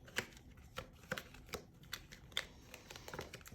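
Tarot cards are handled and shuffled close by, soft crisp riffling slaps and flicks coming in an irregular run of quiet bursts with no voices.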